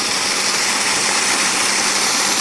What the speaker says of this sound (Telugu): ఇప్పుడు మనమైతే మోటార్ అయితే రన్నింగ్ చేస్తున్నాము